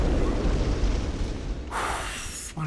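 Explosion in the video game Bloodborne, a loud, dense rumbling blast that fills the clip and then cuts off abruptly near the end.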